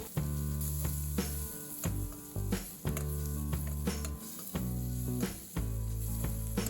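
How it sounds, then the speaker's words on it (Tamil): Tomatoes, green chillies and spice powder sauté in a pan for greens kootu, giving a steady, close sizzle with repeated scraping and stirring strokes at a regular rhythm, and no talking. "இப்போ தூள் சேர்த்துட்டு நல்லா வதக்கி விட்டுடலாம்"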